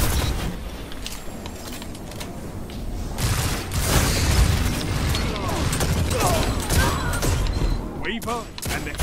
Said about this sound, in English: I got killed by a grenade there.